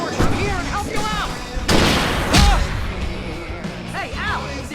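Gunfire rattles through a fight in the video game Alan Wake, with bursts of shots and heavy impacts over a busy mix of game effects and character voices, loud and close.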